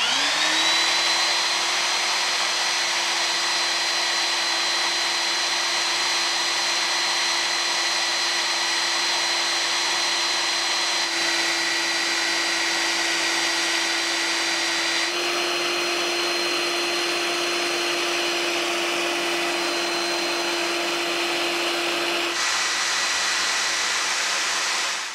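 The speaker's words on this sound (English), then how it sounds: "start up the belt sander, take the wheel, and it will rotate on the belt sander" A belt sander runs continuously, shaping a wooden wheel for a homemade band saw mill, a loud steady whine with a sustained hum, slight shifts in tone as the wood presses against the belt.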